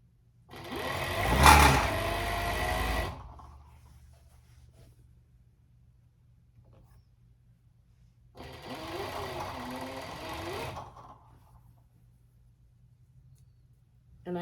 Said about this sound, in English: you can do all of this on your sewing machine.